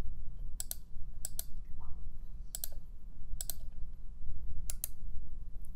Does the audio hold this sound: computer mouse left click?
yes